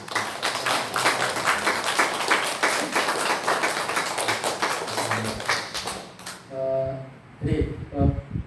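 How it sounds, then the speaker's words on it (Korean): A church congregation at a Sunday worship service claps together, a dense, even burst of applause lasting around six seconds, then fading as a voice begins speaking. "박수로."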